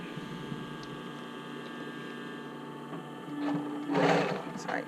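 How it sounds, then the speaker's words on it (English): A sewing machine stitches right along the edge of a swim top, a faint, rapid mechanical whir that gets louder and busier in the last second and a half, with no talk. "sewing right on the edge"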